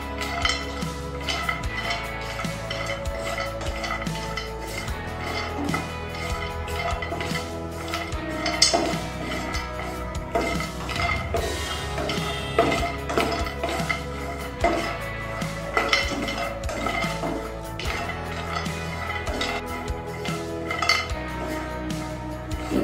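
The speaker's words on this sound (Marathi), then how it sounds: "तसेच 10-15 काजू घेतलेले आहेत। ते सुद्धा आपण 2 मिनिटं भाजून घेणार आहे।" Cashews and almonds dry-roasting in a pan, with a utensil repeatedly scraping and clinking against the metal in an irregular, busy rhythm, close and fairly loud throughout with no talking.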